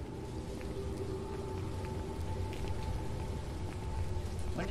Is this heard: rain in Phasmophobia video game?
yes